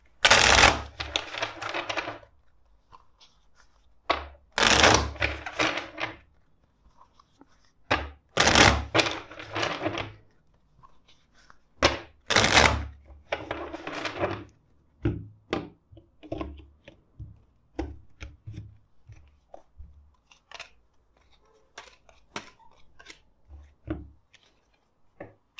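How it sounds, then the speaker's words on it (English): A deck of tarot cards is shuffled in several bursts, crisp riffling and flicking of cards with taps and thumps between rounds, close and fairly loud, gradually thinning to sparse clicks. "Let's shuffle the deck four more times for them."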